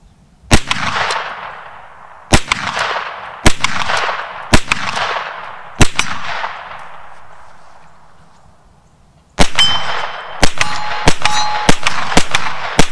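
Palmetto State Armory AKV rifle fires a series of loud, close shots outdoors at a range, first spaced individually with ringing echoes, then a faster cluster of rapid shots near the end.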